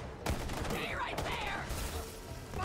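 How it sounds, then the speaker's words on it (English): Gunfire in Borderlands 3, a dense run of rapid shots lasting throughout, close and loud, with voices talking over the shooting. "Who is shooting at me with their bullets?"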